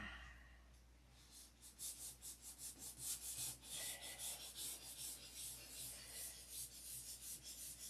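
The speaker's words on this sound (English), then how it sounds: "It just takes a lot of sanding." Hand sanding of a doped finish: faint, steady rasping strokes in a quick, even back-and-forth rhythm, close by and alone.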